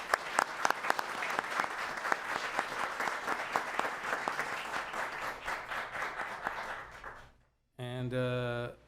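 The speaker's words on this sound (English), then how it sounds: "Let's give him a big round of applause." Audience applause at an organization meeting for a state senator, Anthony Portantino, with dense, sustained clapping from a room of people that fades out after about seven seconds, followed by a brief tonal burst at the end.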